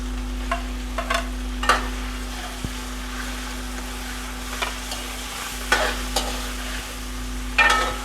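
Chicken frying in a pan with tomatoes added: a steady soft sizzle broken by sharp scraping and clinking strokes of a spoon against the pan at irregular intervals.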